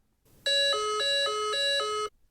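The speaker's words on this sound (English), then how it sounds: "The crew hears the missile alert tone at this time." A loud RF-4C radar warning missile alert tone alternating between two pitches in a steady pulsing pattern, about five cycles, with no voices.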